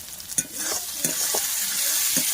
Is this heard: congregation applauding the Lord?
no